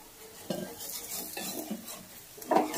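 Handvo batter cooking in a lightly oiled pan, with faint sizzling and soft scraping and clinking of a utensil against the pan in a few short bursts, no talking.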